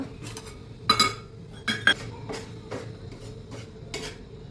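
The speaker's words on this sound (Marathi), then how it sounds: "आता साखर टाकूया." Sugar going into a pan of shira, with several sharp clinks of a metal spoon against the pan and softer scraping and rustling between them, close and fairly quiet, with no talking.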